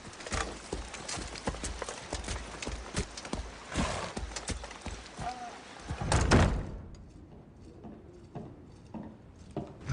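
Horses clip-clop on hard ground with rapid hoof beats and a brief whinny, nearby and fairly loud, before fading to quieter movement.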